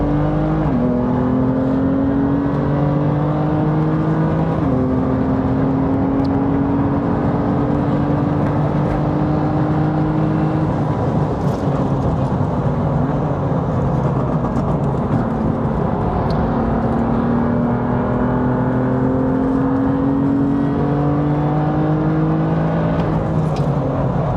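A race car on the Snetterton track spins its wheels while the engine revs loudly and steadily, with repeated rising pitch sweeps as the throttle is worked over a sustained, close drone.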